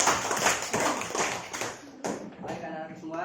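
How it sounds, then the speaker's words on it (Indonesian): Classroom applause for a student group, dense broadband clapping from many pupils filling the first two seconds, then thinning into scattered claps as a teacher's voice and children's chatter take over. "Tepuk tangan untuk kelompok 3."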